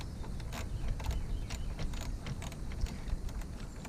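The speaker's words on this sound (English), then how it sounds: "So for this one, I'm just going to use a ratchet. I got a 9/32 socket on here." Hand ratchet fitted with a 9/32 socket loosening a radiator bolt on a Saturn S-Series car, giving a run of quick, close clicks and light metallic ticks with no talking.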